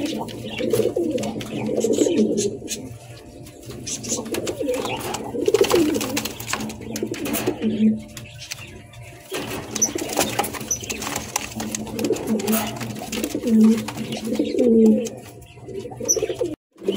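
Lahori pigeons, a grizzle running pair, cooing in soft repeated throaty bursts close by, with faint chirps and background murmur.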